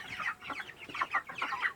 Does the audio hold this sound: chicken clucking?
yes